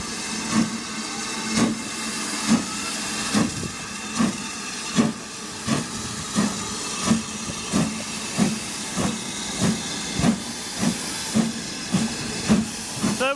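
BR Standard Class 9F steam locomotive no. 92212 chuffs in a slow, steady rhythm with heavy hissing steam, its beats evenly spaced as it pulls away from Ropley toward Alton.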